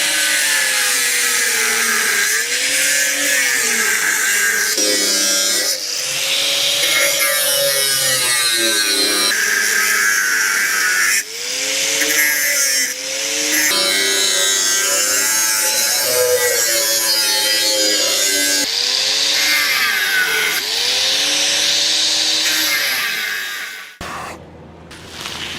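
A power tool grinds and cuts through the metal tank-mount lugs on a Honda CB600 Hornet scrambler build. The whine comes in repeated loud passes with brief pauses between them and stops abruptly near the end.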